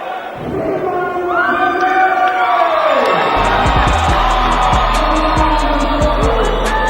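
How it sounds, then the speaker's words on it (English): A crowd at a boxing match in Magamba Hall cheers and roars loudly and continuously, swelling midway with whoops and shouts. "There is a crowd at Magamba Hall."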